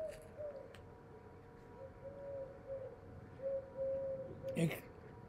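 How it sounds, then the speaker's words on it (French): Soft, low cooing calls of turtle doves repeat faintly in the distance over a quiet background murmur. "Le matin, souvent, j'entends le bruit des tourterelles"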